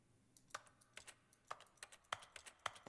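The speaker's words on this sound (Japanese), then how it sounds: "なんか画面、窓をクリックすると、キーボード、打鍵音がするんだけど。" Keyboard typing clicks sound when windows are clicked in The Stanley Parable video game: a quiet, irregular run of crisp keystrokes, close and alone.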